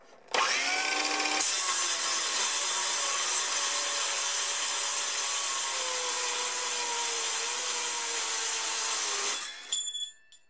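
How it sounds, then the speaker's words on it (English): A Dewalt 24V power saw running on an 18V battery cuts through 3/8-inch aluminum bar stock, a loud, steady high-pitched cutting whine lasting about nine seconds, then spinning down with light clatter at the end. "Certainly goes straight through 3/8 aluminum like it's nothing."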